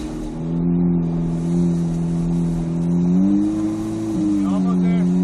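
Corvette C8 Z06 stuck on ice, its engine holding a steady low revving drone with a slight rise and dip, running continuously under a person talking nearby.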